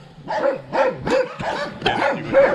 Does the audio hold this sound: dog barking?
yes